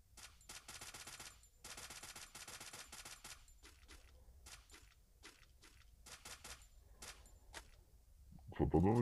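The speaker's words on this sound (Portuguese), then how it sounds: "Só tô dando tiro de fresta." Rapid bursts of Free Fire gunfire crackle in short volleys with gaps between them, fairly close, ending with a louder clatter.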